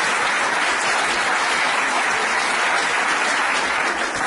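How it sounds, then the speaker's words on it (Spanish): A symposium audience at a closing ceremony claps in sustained, dense applause, loud and even from start to finish with no voices standing out. "quiero que les den un aplauso."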